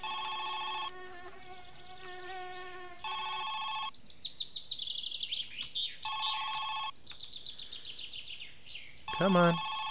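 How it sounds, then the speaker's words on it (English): Telephone ringing in the game My Summer Car, with loud electronic bell bursts repeating in regular rings, separated by bird-like chirping and whistling sounds, all fairly near and clear. "Ignoring the phone."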